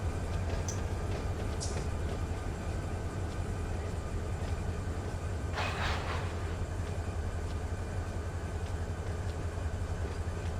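An SD40 diesel locomotive idles in the Run 8 Train Simulator game, a steady low engine drone that holds throughout with a few faint clicks and a brief hiss on top.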